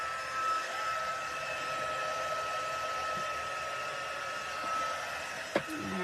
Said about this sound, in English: I'm going to hit that again with the heat tool.